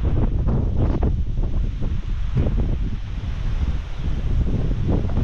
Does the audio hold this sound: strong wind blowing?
yes